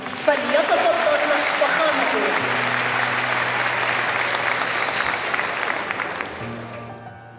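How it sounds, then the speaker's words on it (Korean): An audience at Cairo University applauds to welcome the South Korean president, a full steady clapping that gradually thins toward the end, with background voices and a faint tone mixed in. "따뜻한 박수로 환영해 주시기 바랍니다."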